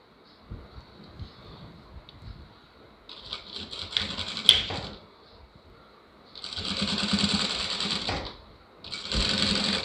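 A sewing machine stitching a lined blouse runs in several bursts of rapid, steady whirring, growing longer and louder toward the end, with quieter handling between.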